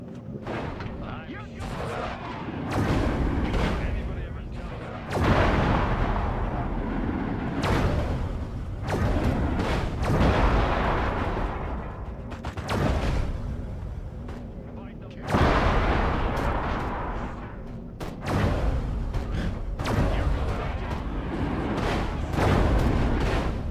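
Gunfire and explosions fill a session of the video game Destroy All Humans, with sustained loud bursts of shooting and blasts rolling in waves and occasional quieter gaps, while a person talks now and then.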